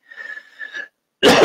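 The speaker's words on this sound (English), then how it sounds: "Excuse me with the coughing, guys." One person coughs sharply and loudly after a brief quiet pause, following a moment of faint, thin breathy sound.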